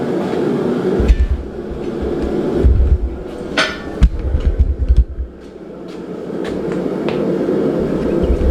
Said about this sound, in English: All we're doing here is breaking the edges. Just giving a little bit of hammer texture.